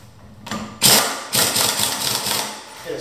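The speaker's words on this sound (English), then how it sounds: "air impact." An air impact wrench runs in bursts while fastening a wheel onto a European car, with a sharp onset of loud, rattling mechanical buzzing that stays fairly steady and close.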